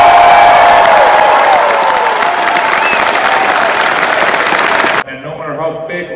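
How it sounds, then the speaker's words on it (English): A large crowd at a Star Wars: The Rise of Skywalker celebration in Chicago bursts into loud, sustained applause and cheering for Peter Mayhew, which cuts off abruptly near the end, leaving a quieter room. "can we get a big applause for my mentor"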